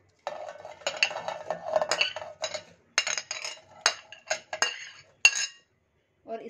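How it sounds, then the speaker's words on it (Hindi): Hard apple pieces clatter and clink into a blender jar in a quick, irregular series of close knocks, followed by a brief pause and a soft scrape. "एप्पल पीसेस को मिक्सी में डाल लेंगे।"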